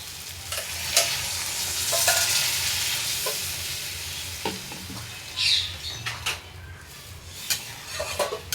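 Sizzling egg curry in a pan, with water poured in and stirred through; a steady hiss runs throughout, broken by scraping spoon strokes and a few clinks against the pan, close and moderately loud with no talking.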